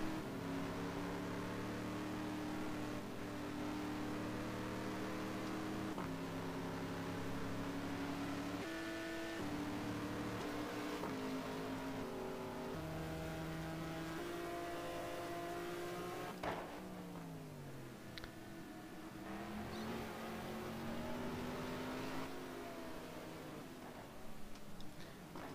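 A pack of GT1 race cars running together at Algarve in a sim racing game, steady sustained engine drone with shifting pitch as cars change gear, a commentator talking over it.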